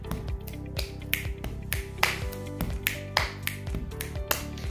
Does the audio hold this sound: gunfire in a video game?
no